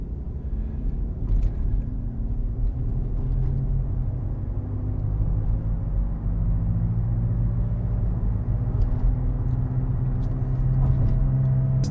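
A Nissan Altima with a suspected wheel bearing problem pulls away from a standstill, a steady close engine rumble building gradually under a drone from inside the cabin.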